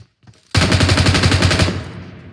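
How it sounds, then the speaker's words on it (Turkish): A rapid automatic burst of gunfire from the mobile game PUBG Mobile, in a one-man-squad match, bursts out after a near-silent start, stays loud and rattling for about a second, then fades out. "Hocam birbirlerini vurdular."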